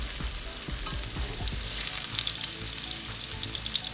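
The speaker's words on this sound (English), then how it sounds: "So I'm going to begin to cook the scallops," Scallops searing in a hot pan over medium heat, giving a steady, close sizzle with crackling spits. A few soft low bumps come early, and no one talks.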